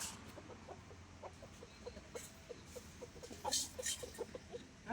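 Clucking fowl among roosters being readied for a tournament, short repeated clucks and calls scattered throughout with a few louder bursts near the end, over steady background noise.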